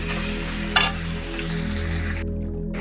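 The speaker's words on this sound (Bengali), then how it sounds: "হলুদ দিয়ে এরকম ভালো করে ভেজে নিচ্ছি" Turmeric frying in a pan for a fish-head mung dal, a continuous sizzle with one sharp clatter early on and soft stirring scrapes, ending in a brief quiet gap.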